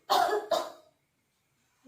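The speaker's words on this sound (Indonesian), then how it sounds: "lalu batukkan Bu" A patient gives two quick, close coughs during chest physiotherapy and effective-cough training, then falls silent.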